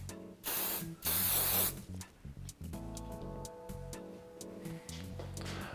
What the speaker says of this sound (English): Just use a little bit of hairspray to fix that in place.